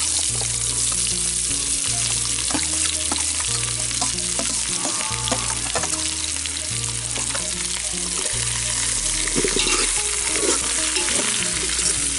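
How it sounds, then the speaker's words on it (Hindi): Onions frying in oil for a village-style pork curry, a loud steady sizzle with frequent scraping stirs of a spoon against the pan, heard up close with no speech. "प्याज को गलने तक हम भूनेंगे"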